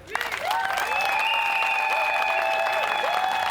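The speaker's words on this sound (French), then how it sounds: "est-ce qu'on peut applaudir s'il vous plaît?" Guests at a Fang and Téké customary wedding burst into sustained applause, loud and close, with high sliding vocal tones ringing above the clapping throughout.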